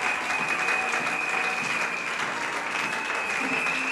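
A church congregation at a Sunday service applauds with sustained, even clapping that holds at a steady loudness throughout, with some voices faintly mixed in.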